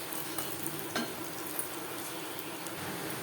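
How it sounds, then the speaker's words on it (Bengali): Large lentil fritters (bora) frying in oil over a medium flame, giving a constant dense crackling sizzle with an occasional light clink of a utensil. "বড়া ভাজবো যেহেতু আমি বড় সাইজের তৈরি করছি মিডিয়াম ফ্লেমে"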